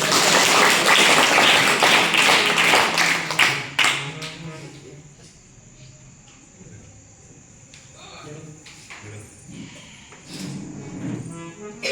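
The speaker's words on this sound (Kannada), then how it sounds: "ಅವರನ್ನ ಜೋರಾದ ಚಪ್ಪಾಳೆ" Loud crowd applause for guests at a school event in an ashram, dense clapping that fades after a few seconds into quieter taps and voices, then picks up slightly.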